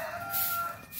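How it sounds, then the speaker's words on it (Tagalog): Rooster crowing in the Philippines, a short tonal call heard at a moderate distance over outdoor background noise, with no talk. "Oh, narinig nyo na ang mga tilaok ng manok."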